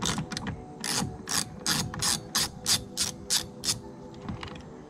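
A ratchet loosens the two 10 mm bolts holding a Lexus IS 250/350 tail light, giving a close, crisp series of about a dozen rapid clicking strokes that grow evenly spaced, with no talking.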